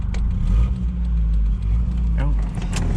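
A 1997 Volvo 940, an old car, rumbles loudly up close as its engine starts and revs, steady low throb filling the clip with a couple of brief surges, while a voice speaks over it.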